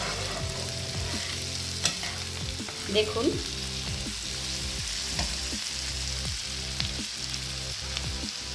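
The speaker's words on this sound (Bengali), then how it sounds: "দিয়ে নেড়ে আমার এই সবজিগুলো ভাজা ভাজা মতন হয়ে এসছে" Vegetables sizzle steadily in a hot pan for white sauce pasta, with a spatula scraping and stirring in a regular rhythm, close and continuous; a voice speaks a single brief word.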